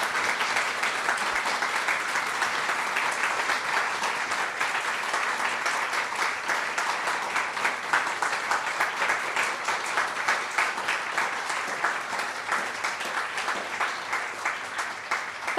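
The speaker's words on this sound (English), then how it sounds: "Can we please give Lucy a huge round of applause?" Sustained applause from an audience at the close of a history talk, a steady wash of many hands that grows into more rhythmic, distinct claps toward the end.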